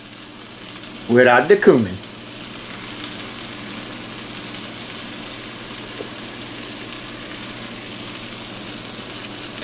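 White chicken chili sizzles steadily in a pot on the stove, a soft even frying hiss, with a short burst of voice and clatter near the start before the sizzle carries on alone at moderate volume.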